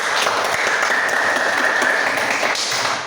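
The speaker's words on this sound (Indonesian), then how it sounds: "Oke, kita berikan aplaus dulu." A classroom of students applauds a student group, a dense, loud burst of clapping sustained evenly for about three seconds before trailing off.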